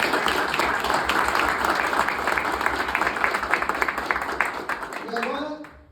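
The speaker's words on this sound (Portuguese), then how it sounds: "uma salva de palmas para todo mundo" A crowd applauds steadily at a closing gathering, dense clapping under light voices and a low hum, then fading out near the end.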